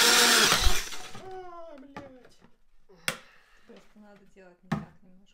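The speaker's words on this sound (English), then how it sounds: "I'm drilling a hole in it for a 110 mm sewer pipe adapter to fit in." A power drill bores a hole in a plastic protein powder container to fit a 110 mm sewer pipe adapter. A loud, harsh burst of drilling lasts about a second, then a voice talks over quiet background.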